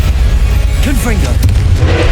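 A fiery blast spell goes off in a Hogwarts Legacy battle, one short boom under loud game noise and brief spoken chatter.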